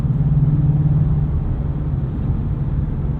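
A Ford Mustang Shelby GT350 engine pulls hard while driving, a loud, steady low rumble with a droning tone that eases slightly after the first second.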